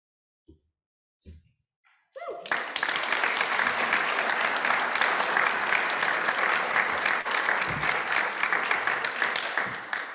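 Audience at a graduation ceremony breaks into sustained applause after a couple of brief sounds, dense steady clapping filling the hall at moderate level until the end.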